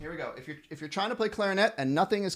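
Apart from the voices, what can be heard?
No distinct noise like a dog, phone or traffic.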